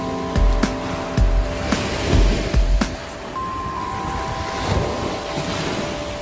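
Calm sea waves wash gently near a boat in an open coastal spot, a soft, steady swash under wind buffeting the microphone and a few low thumps, with no voices.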